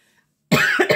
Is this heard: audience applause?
no